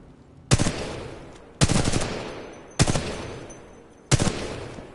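Weapon fire in Titanfall 2, four sharp loud gunshots spaced about a second apart, each ringing out with a decaying echo tail.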